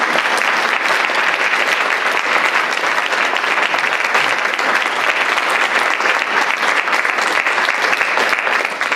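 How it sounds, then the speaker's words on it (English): A large audience gives a loud, vigorous round of applause for presenters at a talk on music in end-of-life care, a dense, unbroken roar of clapping lasting several seconds with no speaking. "let's give a round of applause to thank our presenters here."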